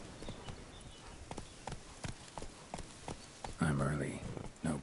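The horse Roach trotting in The Witcher 3, hooves clip-clopping in a steady rhythm close by, with a brief voice rising near the end.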